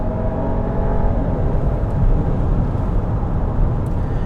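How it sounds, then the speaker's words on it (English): A 2021 Buick Envision Avenir's 2-liter four-cylinder engine drones steadily while accelerating on a highway, a low, even rumble of road and motor noise, holding a constant pull without clear gear changes or talk. "2-liter 4-cylinder, that's your only engine option."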